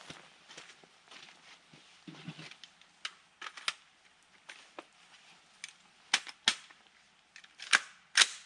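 Rifle shots from a 5.56 fired at a target, the barrel having recently had .22 run through it; sharp distant-sounding reports spaced irregularly, several loud cracks clustered near the end, with faint background rustle.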